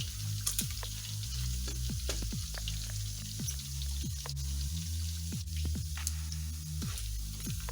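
Beef bacon frying in oil gives a steady close sizzle with small pops and crackles that keeps an even level throughout, with no voices.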